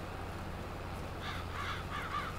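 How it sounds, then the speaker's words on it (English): Crows caw in the video game Farming Simulator 22: three or four harsh caws arrive in the second half, clear above a steady low hum of game ambience. "Aha, it's the crows."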